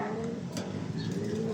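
A pigeon coos close by, soft low repeated coos through the short clip under light background noise.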